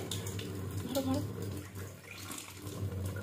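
Tap water runs steadily from a faucet into a small water pen, a close, soft splashing stream with someone talking over it.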